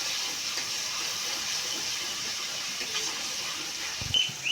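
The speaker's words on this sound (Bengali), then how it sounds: "ভালো করে একটু তেলের মধ্যে কষিয়ে নেব।" Steady frying hiss of Kashmiri red chili powder sautéed in hot oil for a vegetable dish, continuous and fairly even, with a brief clatter near the end.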